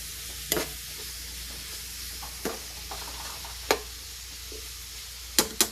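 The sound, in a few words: stirring beef frying in a pan for bistek tagalog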